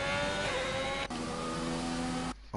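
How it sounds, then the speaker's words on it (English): Racing car engines in a rainy Singapore race in a racing video game, a loud steady engine whine with shifting tones and a brief gap before dropping out abruptly near the end, no talk. "I'll turn the sound of the cars down"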